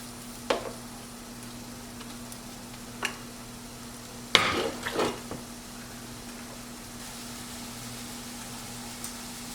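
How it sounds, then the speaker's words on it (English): Seasoned chicken fries in a pan with a steady, quiet sizzle, broken by a few sharp clicks and scrapes around the midpoint. No one speaks. "I'm going to let that cook for a few minutes or start to cook"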